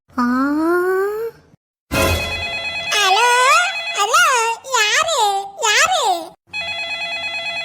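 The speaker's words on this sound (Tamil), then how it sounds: "செல்போன் இங்க அடிச்சிட்டு இருக்குது" A cartoon cellphone rings with a looping electronic melody, broken by a brief burst of noise and a stretch of wobbling, sliding tones, fairly loud and close, with cartoon voices around it.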